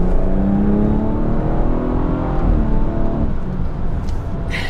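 A BMW F30 340i with the B58 engine accelerates hard, the engine note climbing steadily through the revs before a snappy upshift, loud and close, with no talking.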